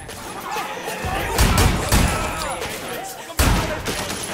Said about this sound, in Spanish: Mira que disparo a la cerveza y la liamos parda,